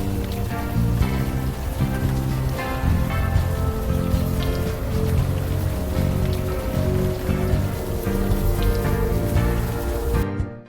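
Steady, dense rain falling in the adventure game Unavowed, a loud continuous patter on surfaces that runs throughout and cuts off abruptly at the end.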